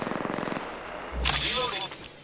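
A burst of rapid gunfire rattles in a shooter video game, followed by a loud sharp shot and ringing zips, all heard close and without speech.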